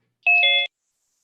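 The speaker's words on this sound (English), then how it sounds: "There's a doorbell." A single electronic doorbell chime sounds in an online video meeting, a clean two-tone ding-dong lasting under half a second, then silence.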